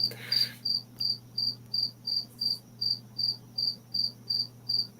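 A cricket chirps in a steady, evenly spaced series of about a dozen short, high pulses, clear and fairly close against a quiet background with a low hum underneath.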